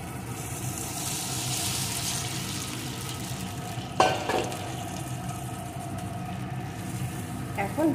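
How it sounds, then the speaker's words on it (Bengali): Pieces of elephant foot yam frying with spices in a pan, a steady close sizzle running throughout, with a single clink of a spoon against the pan partway through and quiet talk over it. "এখন ওলটাকে সব কিছু দিয়ে ভালো করে বেশ কিছুক্ষণ ভেজে নেব।"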